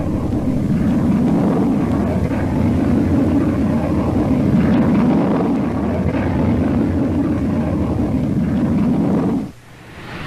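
Jet fighter capable of over 1,000 miles per hour roaring overhead in a steady, loud, broadband rush with wind-like buffeting, cutting off abruptly near the end.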